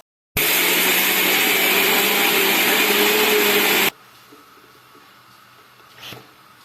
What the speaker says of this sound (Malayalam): 2 പച്ചമുളക്, കുരുമുളകും വെളുത്തുള്ളിയും, 1/2 കപ്പ് വെള്ളവും കൂടെ ഒഴിച്ച് നമുക്ക് മിക്സിയുടെ ജാറിൽ ഭംഗിയായി അരച്ചെടുക്കാം.